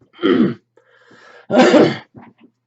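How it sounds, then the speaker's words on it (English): Two rough throat clearings close together, the second longer and louder, with a softer grunt between and a small trailing rasp. "Every time I turn on the camera, I got a cough or clear my throat."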